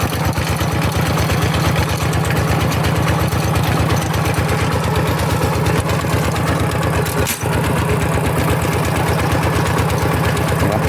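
A walk-behind rice-field tractor's small single-cylinder engine running at a steady fast throb, loud and close, with rapid even chugging pulses and a brief knock near the end, no talk.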